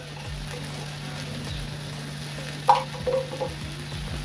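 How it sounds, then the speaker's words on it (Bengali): A ginger, garlic, onion, tomato and chilli spice paste for crab curry fries in a pan with a steady low sizzle, broken by a few sharp stirring scrapes near the end, no speech. "এটা এবার ভাজা ভাজা করব।"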